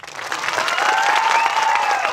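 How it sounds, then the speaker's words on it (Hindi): A church congregation breaks into applause during a pastor's sermon, the clapping swelling quickly and holding steady and fairly loud throughout, with faint tones or voices running under the crowd noise. "क्या बात है, तालियां नहीं बजेगी लेकिन"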